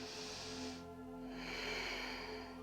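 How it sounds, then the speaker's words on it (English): Soft, airy breaths during a yoga backbend flow, a long inhale followed by a pause and another drawn-out breath, close and faint in a quiet room. "Take a breath in."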